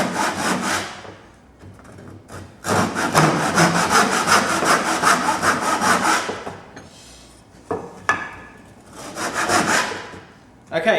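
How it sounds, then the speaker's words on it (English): A hand saw rasps through wood in rough cuts for a cross halving joint, loud steady back-and-forth strokes in two long bursts with a short pause between and a brief third burst at the end. "putting your saw cuts your rough saw cuts in"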